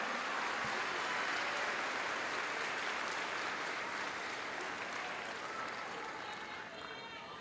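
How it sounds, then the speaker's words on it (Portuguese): A large church congregation at the Gideões 2024 gathering claps steadily and loudly, a dense, sustained wash of applause that fills the whole stretch and eases slightly toward the end. "Vocês podem aplaudir ao Senhor pelos missionários dessa seara."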